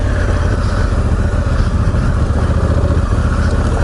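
A Honda Africa Twin motorcycle with DCT in sport mode and traction control off rides a loose, rocky dirt trail, its engine a loud, continuous rumbling drone with wind buffeting throughout.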